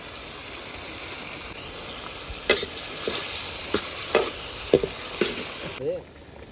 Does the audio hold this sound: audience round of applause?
no